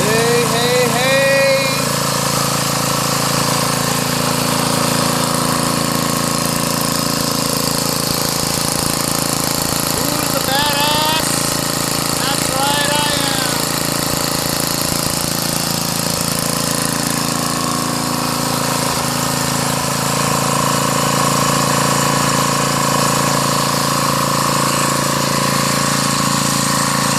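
Small gasoline engine on a free Craftsman yard machine, running after a pull-start with a steady, loud, buzzing idle that holds throughout, with a few brief voice sounds on top.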